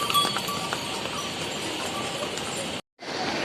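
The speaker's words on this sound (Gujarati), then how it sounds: "જો આ ઘોડા હોય છે" Horse hooves clip-clop along the mountain footpath to Kedarnath, their irregular steps heard amid steady outdoor ambience, with a brief dropout near the end.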